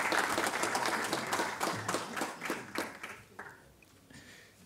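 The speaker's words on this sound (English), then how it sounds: "A round of applause, ladies and gentlemen." Audience applause greets Professor Arthur Mutambara at a University of Johannesburg book launch, a dense patter of clapping that is loud at first and then thins out over a few seconds, with no voices over it.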